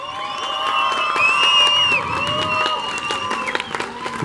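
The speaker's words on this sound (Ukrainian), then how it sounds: "І бурхливими оплесками давайте зустрічати наших українських богатирів" A crowd at a European Cup strongman event in Mukachevo bursts into loud, sustained applause with cheers and whoops to greet the athletes, and a announcer's voice carries over it.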